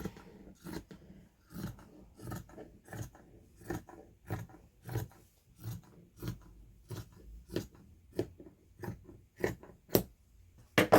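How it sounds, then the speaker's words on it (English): Scissors snip through the elastic band along the top of a dress being refashioned, a steady series of about twenty crisp, close cuts at a regular rhythm with no talk over them. "I'm just going to cut the elastic off the top"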